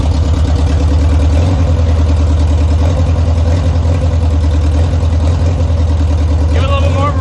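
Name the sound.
1973 VW Bus engine running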